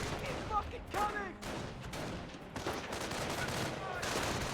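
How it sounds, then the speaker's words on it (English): Mortar shells and small-arms fire burst across a World War II battlefield in Company of Heroes, a fairly quiet mix of crackling shots and muffled thuds with faint whistles, under an ongoing din. "good mortar hit there"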